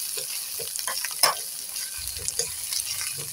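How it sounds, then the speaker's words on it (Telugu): Prawn shells and masala fry in oil for an egg and prawn-shell curry, crackling and sizzling up close with scattered pops and some stirring scrapes. "ఇది ఇలాగ నూనెలో మగ్గితండి, చాలా బాగుంటుంది."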